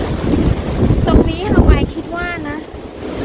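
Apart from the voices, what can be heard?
wind and ocean waves at a night viewpoint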